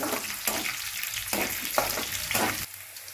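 Tempering spices sizzling in hot oil in a pan for mushroom curry, a close, steady crackling fry with several sharper bursts of spitting and stirring scrapes, no talk.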